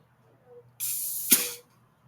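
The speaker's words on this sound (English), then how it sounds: "blow brake clean right through it" Brake cleaner sprays through a Briggs and Stratton carburetor in one steady hiss lasting under a second, close and loud, with a sharper burst near the end before it cuts off.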